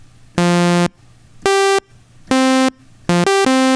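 Synthesizer notes in unison ring out as a sequence of bright, buzzy sustained tones with gaps between them, the last few coming quicker and closer together, loud and clear with no talk.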